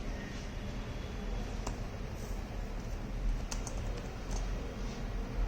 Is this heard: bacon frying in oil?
no